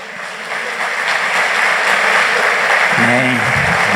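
A church congregation claps together during a Christmas sermon, a dense, loud, steady roar of many hands. Near the end a voice calls out over the applause.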